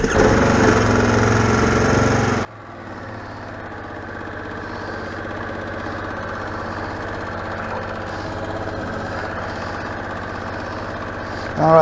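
Harley-Davidson Sportster S motorcycle engine: a loud rev for two seconds, then a steady low idle rumble that swells slightly near the end.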